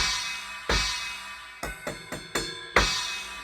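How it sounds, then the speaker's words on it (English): A series of electronic ride cymbal strikes on the outer edge, washy and shimmering, with a quick cluster of hits in the middle before a final louder crash. "as opposed to hitting the outside, which sounds like this"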